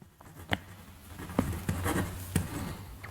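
Pen scratching across paper as equations are written by hand during a physics lesson on electric dipoles, close and soft, with short strokes and taps in an uneven rhythm.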